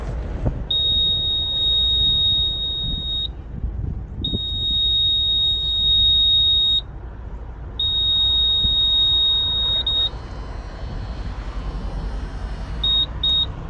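A steady high-pitched electronic beep from a 2007 Mitsubishi Colt sounds in long tones with short gaps, then brief short beeps at the end, over low rumbling background noise.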